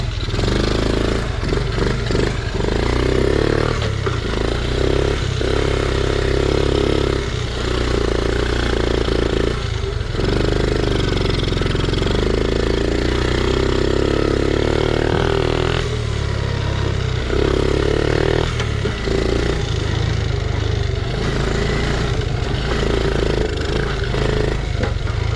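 Small Honda 50R kids' dirt bike engine running steadily on choke, a close, continuous buzzing idle with slight throttle variations and brief dips throughout.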